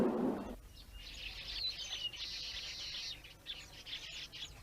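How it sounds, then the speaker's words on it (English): Male weaver birds chatter in busy, high twittering bursts from the trees before the monsoon in central India, fairly faint and continuous, with no voices. "the male weaver birds begin making their nests up in the trees"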